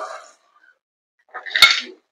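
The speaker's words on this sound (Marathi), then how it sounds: "संपूर्ण चिंबोऱ्या आपल्याला पातेल्यामध्ये लावून घ्यायचे" Whole crabs are set into a cooking pot of fried masala paste, with a short soft clatter at the start and then a brighter, sharp metallic clink and scrape after a brief silence.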